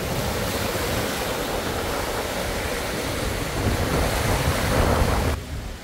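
Surf rolling onto the sand at Ilıca beach in Çeşme, Izmir, a steady broadband wash of breaking ocean waves with wind buffeting the microphone, swelling slightly louder near the end before cutting off.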